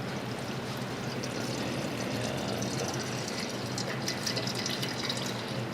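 Wort runs off from a homebrew mash tun during the sparge of a ten-gallon batch, a steady, continuous stream of trickling, splashing liquid with no pauses.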